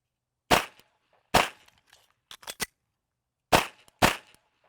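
Beretta 92X pistol shots at a shooting range: two sharp loud reports, a pause with clicking magazine handling, then two more shots in quick succession.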